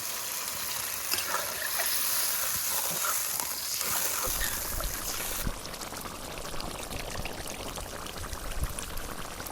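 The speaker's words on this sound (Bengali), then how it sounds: "এবার এই সময় দিয়ে দিব হচ্ছে জল" Water is poured into a pot of mutton fat, a steady splashing stream for several seconds that gives way to a softer bubbling sizzle as it settles.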